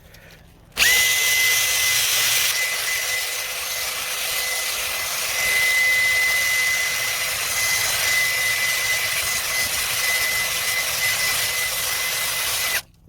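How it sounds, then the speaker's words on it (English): A carpet bomber power tool scrubbing car carpet fibers during interior detailing, a loud continuous high-pitched whirring motor that starts abruptly, runs steadily for about twelve seconds with slight load changes, then cuts off. "So let's do one more with just the carpet bomber."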